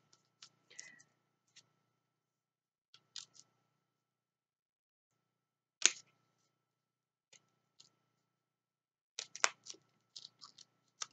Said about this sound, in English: I've just got my scissors through a little bit of it